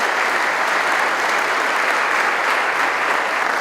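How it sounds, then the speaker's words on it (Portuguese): A church congregation applauds during a Portuguese-language service, dense, steady clapping from many hands, loud and continuous throughout, with no break. "Se você também decidiu, aplauda ao Senhor nessa noite em nome de Jesus."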